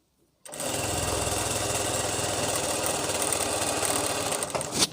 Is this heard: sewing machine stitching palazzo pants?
yes